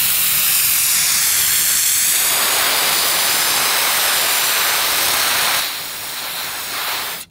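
Dry ice blasting on a car sends out a loud, continuous high-pitched blast of hissing air across the whole clip, easing slightly before swelling again near the end, with no talk.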